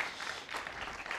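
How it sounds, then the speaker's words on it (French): A conference audience applauds as the first guest speaker is introduced, a brief steady wash of clapping from many hands in a hall, heard alone. "On peut l'applaudir, Isabelle Pitois."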